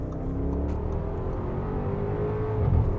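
Steady engine drone of a 2023 Bentley Bentayga V8 SUV under half-throttle acceleration, a low continuous rumble with a slowly rising tone, swelling slightly near the end, heard from inside the car with no talking.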